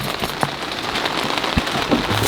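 Steady rain falling outdoors in a garden, a dense continuous patter of drops with a few louder individual hits, close and fairly loud with no speech.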